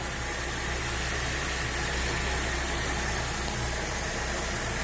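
A 2008 Pontiac G8 3.6 V6 runs steadily after a timing chain job, a loud continuous engine drone that holds even throughout, close up with no talk.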